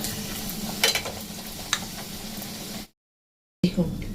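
A stuffed chana dal puri fries in hot oil with a continuous crackling sizzle and a few sharp pops and taps. The sound cuts to silence briefly, then the sizzle returns with a clatter.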